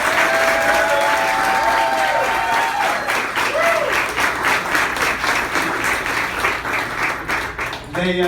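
An audience at a check presentation event breaks into sustained applause, dense clapping filling the room steadily, while a voice speaks briefly over it.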